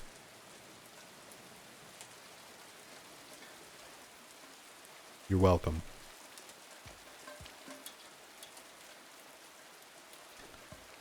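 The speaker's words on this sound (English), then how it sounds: "Some nice calming Brookhaven rain sounds." Steady, calming rain from Brookhaven in the Silent Hill 2 Remake, a soft continuous hiss throughout with a brief louder burst midway and a few spoken words.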